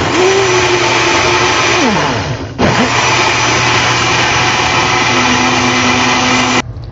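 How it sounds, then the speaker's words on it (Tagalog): An electric blender whirs loudly and steadily while blending homemade condensed milk with vanilla essence, its motor pitch dipping and briefly cutting out partway before running on strong and stopping near the end. "So, i-blender na natin."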